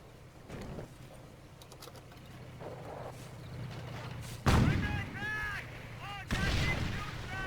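Artillery fires shrapnel shells in the Company of Heroes Great War mod video game: two heavy booming blasts over a low battlefield rumble, with fainter distant shots scattered around them.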